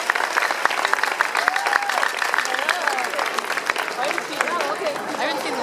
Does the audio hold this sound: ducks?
no